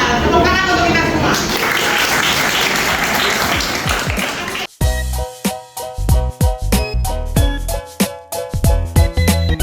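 Classroom applause from students in an Indonesian junior high school lesson, a dense burst of clapping lasting several seconds before it gives way to separate sharp taps and knocks.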